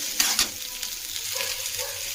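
Tomatoes sauté in oil in a pan for a South Indian ennai kathirikkai kuzhambu, giving a soft steady sizzle with two quick stirring clinks near the start, close and without talk.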